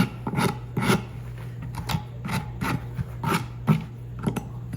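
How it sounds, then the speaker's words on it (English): Rhythmic rasping strokes of a file on wood, removing glue from a joint, about eight back-and-forth passes, close and fairly loud with no speech. "I'm going to take the file, take off any glue and expose nice fresh wood."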